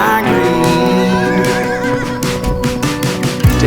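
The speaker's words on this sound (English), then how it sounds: "the sound of our hooves galloping down the dirt trail" Horses neigh loudly and close during a horseback ride on a dirt trail in Maui's Waihee Valley, a shrill whinny with wavering pitch over a dense musical background and faint hoof sounds.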